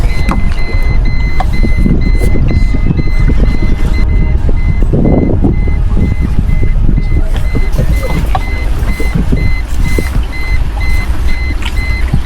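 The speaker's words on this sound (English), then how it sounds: "sounder alarm." Vehicle reversing alarm beeping in a steady repeated pattern over a loud, continuous engine rumble, close and prominent throughout.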